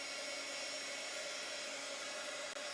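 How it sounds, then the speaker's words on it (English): An old heat gun blows a steady, loud, broadband roar while melting embossing powder for a stamped card, the whoosh holding even throughout with no talking. "I have just an old heat gun, and it makes a lot of noise."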